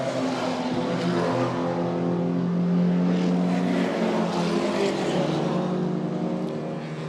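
Race cars on the opening lap of a circuit race roar past in a continuous, loud engine drone that swells slightly midway and holds steady throughout, with no talk.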